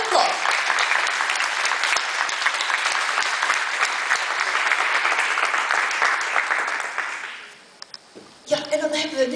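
A concert hall audience at a music competition applauds warmly in a dense, steady wash of clapping that fades out near the end, followed briefly by a voice.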